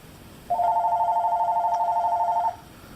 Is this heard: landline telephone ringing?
yes